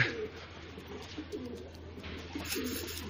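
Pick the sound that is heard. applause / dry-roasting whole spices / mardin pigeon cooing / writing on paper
mardin pigeon cooing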